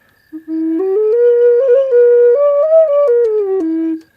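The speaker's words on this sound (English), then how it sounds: "The second one is these notes." The second pipe of a large triple flute plays a short solo melody, stepping up through several clear, loud breathy notes, holding near the top, then descending back to the starting pitch before stopping.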